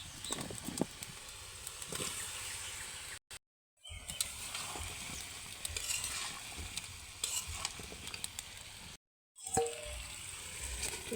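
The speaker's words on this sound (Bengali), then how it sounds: "এখন এই সবজিগুলা তরকারিতে দিয়ে দেব" Vegetables tipped into a Bengali fish curry of shing fish with bottle gourd, sizzling steadily in the pan while being stirred, with two brief pauses where the sound cuts out entirely.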